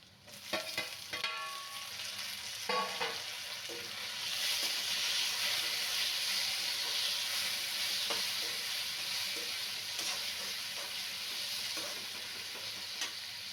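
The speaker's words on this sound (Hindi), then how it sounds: "मैंने 1 मिनट इसे सॉटे कर लिया है।" Stuffed bitter gourd (karela) sautéing in a pan, a continuous close sizzle with intermittent stirring clicks and scrapes, growing denser and steadier midway and holding without any talk.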